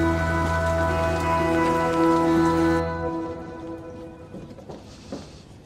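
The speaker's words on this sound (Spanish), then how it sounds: "Porque es que está lloviendo" Steady rain patters on a surface while a tonal hum fades out partway through, leaving scattered drops and soft splashes.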